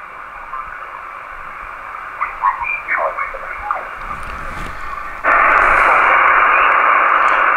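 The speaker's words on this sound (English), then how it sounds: "that AM noise, AM noise, that USB noise, it really plays with your ears after a bit" Amateur radio receiver output through a BHI ParaPro EQ20-DSP noise filter: a steady hiss of band noise with faint warbling signal fragments, then a sudden jump to louder, harsher static that holds to the end.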